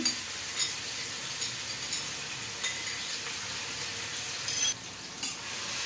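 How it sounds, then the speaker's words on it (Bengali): Crushed green chillies fry in hot oil in a wok, giving a steady, moderately loud sizzle and hiss with a few faint stirring scrapes and clinks throughout. "একটু ভেজে নেব"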